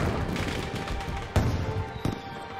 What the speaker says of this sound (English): The festival ends with a bang as kites make way for fireworks.